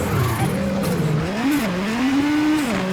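A rally car in WRC 7 revs hard and shifts gears, its engine pitch climbing and dropping repeatedly over a few seconds, loud and close with hints of tire noise on the gravel stage.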